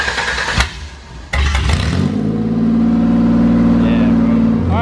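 A budget manual drift car's engine cranks and catches, then settles into a loud, steady running rumble close by, with voices talking over the start.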